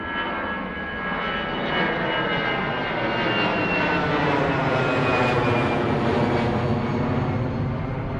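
An airplane takes off with a loud, continuous roar from its engines, a broad steady rush that swells slightly as the aircraft climbs into the air.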